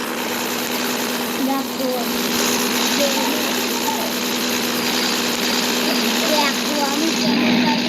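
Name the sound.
vehicle engine while driving in video game Dude Theft Wars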